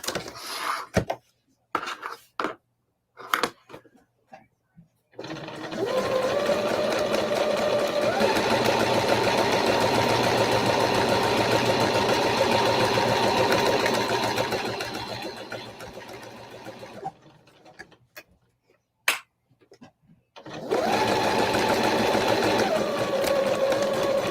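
Sewing machine stitching a zipper pouch, running in long steady bursts of continuous motor whir and needle chatter, with short stops and clicks in between and no talk.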